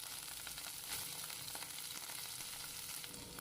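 Amaranth leaves dropped into a hot pan of moong dal, garlic and ginger give off a steady, close, hissing sizzle that carries evenly throughout with no voices.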